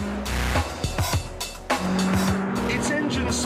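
A 2006 Honda Civic Type R engine revs hard toward 8,000 rpm, its rising engine note mixed with tire squeal and sharp bursts of car noise close to the microphone.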